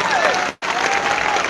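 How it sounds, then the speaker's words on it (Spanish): A church congregation breaks into loud, dense applause that fills the space, stops abruptly for a split second, then resumes just as full and steady. "aplauso para el Señor."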